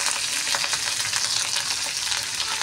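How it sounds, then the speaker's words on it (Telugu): Curry leaves crackle and sizzle in hot oil during tempering for a foxtail millet and moong dal pongal, a dense, steady spattering hiss heard close and alone with no talking. "చూడండి చిటపట్లాడుతున్నాయి కదా"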